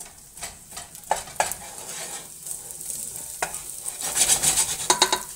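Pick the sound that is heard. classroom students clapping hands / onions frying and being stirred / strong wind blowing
onions frying and being stirred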